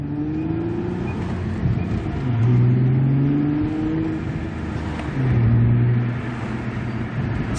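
A Nissan Altima fitted with a Magnaflow resonator accelerates under load, heard from inside with windows down, its engine droning and rising in pitch through two pulls with a shift between them.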